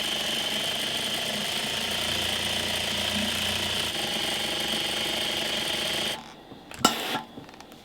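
An industrial sewing machine runs steadily, stitching a gathered ruffle for a summer dress with the tension turned up and the top thread pinched, a continuous mechanical hum lasting about six seconds before it stops, followed by a brief clatter.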